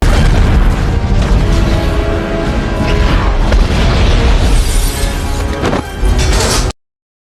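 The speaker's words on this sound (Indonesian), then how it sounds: "Clint melesatkan anak panah peledak tepat di ruangan tim Avengers berada dan ledakan pun terjadi" A loud booming blast from an explosive arrow hitting a helicarrier room, with heavy low rumble and debris-like crashes that roll on for several seconds, then cut off abruptly.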